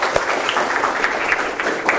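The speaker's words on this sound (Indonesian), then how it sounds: "Oke, tepuk tangan dong." Audience applause in a classroom setting, a dense, even patter of many hands clapping close by for a couple of seconds.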